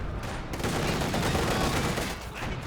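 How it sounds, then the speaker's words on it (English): Incendiary artillery barrage in the Company of Heroes 2 real-time strategy game, a dense continuous roar of overlapping blasts and crackling impacts with no clear gaps. "Fallschirmjäger pushing forwards, but goes the incendiary artillery"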